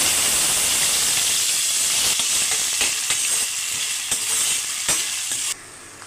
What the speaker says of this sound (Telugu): చూడండి ఉల్లిపాయలు అయితే వేగుతున్నాయి మనకి